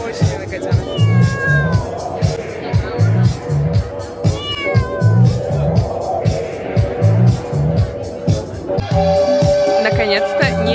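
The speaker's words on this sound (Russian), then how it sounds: "И у нас здесь котенок ходит." A small kitten meows repeatedly in high, rising cries, heard close over steady party music with a DJ and crowd chatter at a wedding celebration in Italy.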